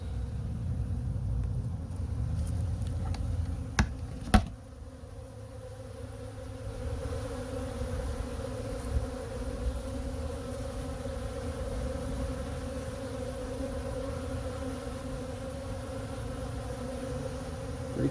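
Honey bees feeding on pollen substitute in spring give a steady, dense hum of many wings close by, continuous and unbroken, with a couple of brief sharp clicks early on.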